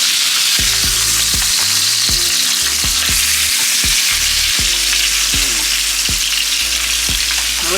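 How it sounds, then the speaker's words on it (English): A hot pan used for salmon is rinsed with water, which hisses loudly in a constant close sizzle with bursts of bubbling and crackle, and no voices are heard. "We're gonna take this pan and rinse it"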